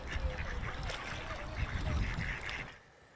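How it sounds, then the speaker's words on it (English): Ducks quack and honk by a sunny pond while being fed pellets, a steady layer of overlapping calls that stays close and fairly loud before it stops abruptly near the end. "ducks behind me seem to be enjoying the sunny weather and the pellets they are being given"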